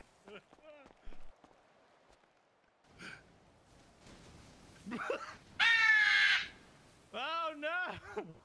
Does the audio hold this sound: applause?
no